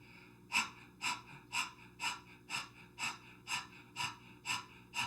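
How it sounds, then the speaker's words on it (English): A person pants rhythmically through an open mouth like a dog during a Kundalini yoga breathing exercise, about ten quick, even breaths, close and soft, with no talking. "we're going to open the mouth and we're going to begin to pant like a dog"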